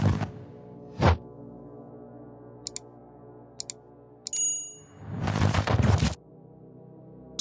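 Several short, bright phone notification dings ring out one at a time with quiet gaps between them, set among a few louder dull swells and thumps.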